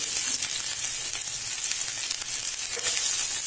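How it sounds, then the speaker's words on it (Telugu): Garlic sizzles steadily in hot oil in a pan, a constant loud frying hiss that fills the whole stretch with no voices. "వెల్లుల్లి వేస్తున్నాను. వెల్లుల్లి కాస్త వేగాలి కదా, వెల్లుల్లి వేస్తున్నాను."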